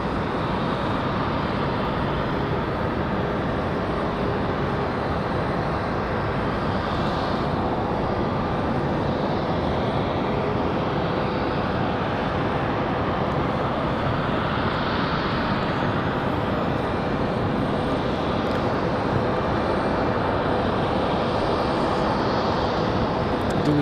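Airbus A321neo LR airliner at Raleigh-Durham airport, a loud steady jet engine roar that holds for the whole stretch with a slow rising and falling whoosh, close by, with no voices.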